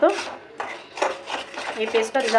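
Spoon scraping and clinking against a pan while cashew paste masala for Bengali prawn malai curry is stirred over low heat, a steady run of close, busy scrapes and metallic knocks.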